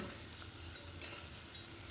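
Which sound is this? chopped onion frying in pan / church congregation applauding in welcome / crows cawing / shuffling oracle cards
chopped onion frying in pan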